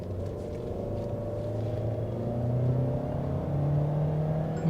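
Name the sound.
Mahindra XUV 700 AX7L car accelerating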